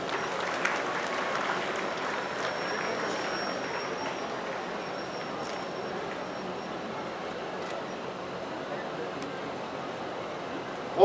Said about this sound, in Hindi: तालियां बजा सकते हैं आप।